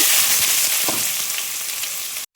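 Finely chopped onions fry with cumin, cinnamon, black pepper and cardamom in hot oil, a loud continuous sizzle that cuts off abruptly at the end, with no voices.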